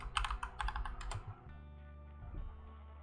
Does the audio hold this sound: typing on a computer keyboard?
yes